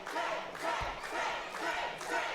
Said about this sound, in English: this Lamont Furnace crowd responding very well to Tre LaMar